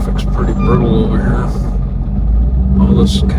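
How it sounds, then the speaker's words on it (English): Heavy road traffic in a congested construction area, a steady loud low rumble of engines passing close by, with a voice talking over it. "Traffic's pretty brutal over here."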